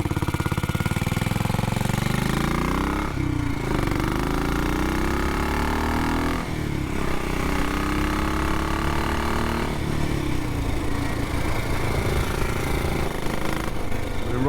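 A BSA B44 motorcycle engine in OIF frame running in gear, a loud close single-cylinder drone rising and falling through several revving sweeps with brief dips between, continuous and unaccompanied by talk.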